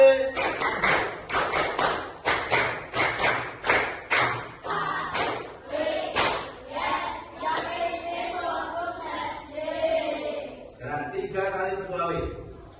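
A class of children plays a group clapping game, with sharp synchronized claps and thumps in a steady rhythmic pattern for several seconds, then looser taps mixed with voices and chanting toward the end.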